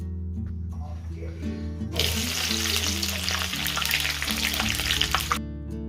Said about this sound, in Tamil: இப்போ இதையும் போட்டு நல்லா இடிச்சிட்டு இதையும் ஃப்ரை பண்ணி எடுக்கிறேன்.